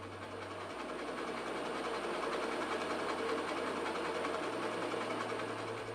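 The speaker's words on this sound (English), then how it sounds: "you should notice the noise levels will increase more as the gate closes" A gate valve on a water network closes, giving a steady dense rushing and hissing flow noise with a low droning hum that shifts pitch in steps and holds loud and constant throughout.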